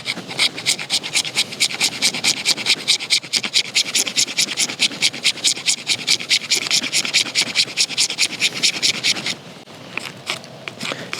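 An Odenwolf W machete blade scrapes repeatedly across a surface in a steady, fast back-and-forth rhythm, harsh and rasping up close, with the strokes stopping near the end.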